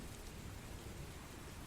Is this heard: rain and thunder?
yes